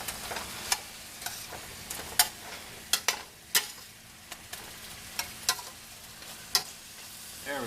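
Sirloin steaks fry in a pan of beer sauce with onions, peppers, mushrooms and green beans, giving a steady soft sizzle broken by sharp scattered pops and crackles.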